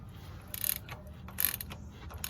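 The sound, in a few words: ratchet wrench tightening oil filter heat exchanger bolt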